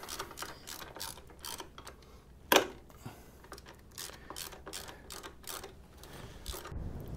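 Ratchet wrench snugging bolts on a Harley-Davidson Sportster regulator/rectifier, quick bursts of rapid metallic clicking in repeated strokes with a louder clank midway, close and without talk.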